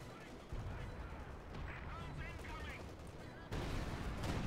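Artillery strikes and gunfire in the Company of Heroes 2 video game, a dense rumbling barrage of blasts with a heavier surge near the end, while a voice talks over the top.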